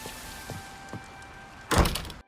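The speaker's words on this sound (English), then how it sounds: "the sounds of the door" A wooden door in the game Hytale opens or closes with a loud, brief thunk and creak, following a few soft footsteps and faint rain ambience.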